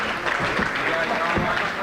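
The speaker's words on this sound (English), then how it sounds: "how about a round of applause for all the managers?" Audience at a corporate event applauding the managers, a brief continuous wash of clapping mixed with crowd noise and voices throughout.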